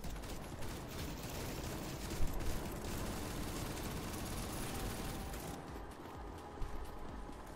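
Bursts of gunfire in the video game CS:GO, aimed at a bus, rattle on as dense, continuous loud shooting with a few sharper peaks, then ease slightly toward the end.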